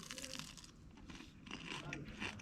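Crunchy bites into crispy breaded chicken, a few close crackling crunches and chewing noises at low volume, with some faint voice in the background.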